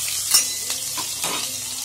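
Green chillies dropped into hot oil with browned cumin crackle and sizzle close up, a steady frying hiss with a few sharper spits, no talking.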